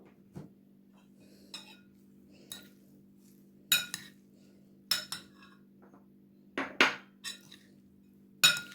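A spoon stirs egg salad with greens in a bowl, giving scattered metallic clinks and scrapes at an unhurried, irregular pace over a faint steady hum.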